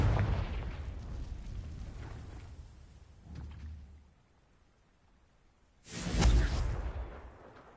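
Explosions from the Confringo blasting spell in the video game Hogwarts Legacy: a booming blast fades out, a softer rumble follows, and then a loud, sharp explosion bursts and decays, with no talking.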